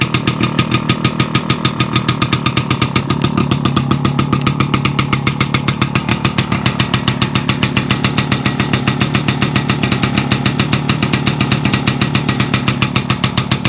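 Restored 1960s Panonia motorcycle engine idling as it warms up on choke, a loud, close, rapid and steady popping exhaust beat that runs unbroken throughout with no talk.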